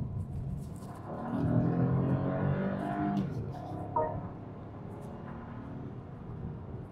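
BMW 2 Series car accelerating hard with the pedal floored, engine note rising in pitch through a gear, then easing into a quieter steady drone, heard from inside the cabin.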